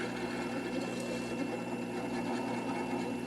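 Faceting machine doing the final polish on a fluorite gemstone, giving off a steady, continuous motor hum with a fine whirring texture, close and even in level throughout with no voices.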